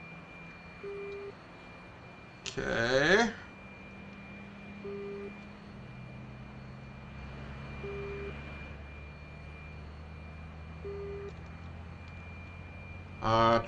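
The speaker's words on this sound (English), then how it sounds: "The right engine is spooled up. Left engine should be spooling." Jet engines spool up for takeoff in a flight simulator game, a steady roar with rising tonal whine under a couple of brief louder bursts, while a voice speaks briefly.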